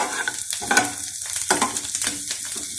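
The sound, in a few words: frying and stirring cabbage with capsicum in a pan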